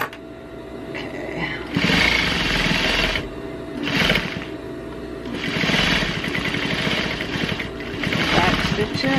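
Sewing machine back-stitching fabric for a small critter sleeping bag, a steady buzzing motor run that swells in bursts, close and fairly loud throughout.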